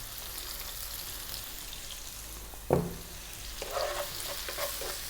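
Chopped onion sizzles in hot oil in a pan for a vegan mushroom potato curry, a soft steady frying hiss with one sharp scrape or knock of stirring partway through and faint rustling afterward.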